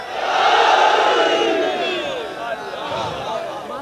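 A large crowd at a religious majlis gathering in Karachi roars the Naara-e-Haidri slogan together, a loud sustained mass shout of many voices that swells early and stays strong throughout.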